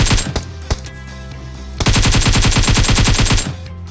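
Gunfire in PUBG on the Livik map: a few loud single shots, then a rapid automatic burst of about twenty close, sharp rounds, with no talking over it.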